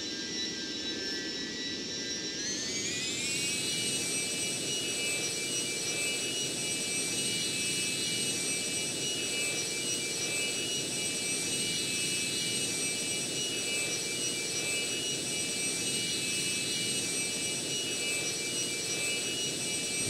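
Steady jet engine roar with afterburner from a flight video game, climbing in pitch early on and then holding a loud, constant whine and rush over a broad low rumble.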